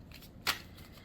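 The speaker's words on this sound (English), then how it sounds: "And we are shuffling the archetypes deck here." An archetypes tarot card deck being shuffled, a single quick riffle of cards up close, brief and fairly crisp against a quiet background.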